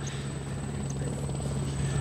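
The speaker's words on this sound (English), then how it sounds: "as the helicopter goes round" Helicopter circling over a cycling race in the rain, its steady rotor drone and engine whine continuous and moderately loud throughout.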